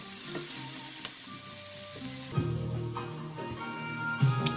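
Onions and garlic sizzling in a pan as the base for mussels in white wine, a steady crackling fry with occasional stirring scrapes and clinks, close and fairly quiet, with no talking.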